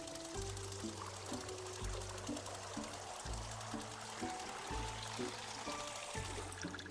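Cold water poured for an iced tea in the video game Wanderstop, a steady trickling stream running under soft layered game music throughout.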